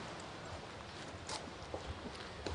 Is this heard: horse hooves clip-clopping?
yes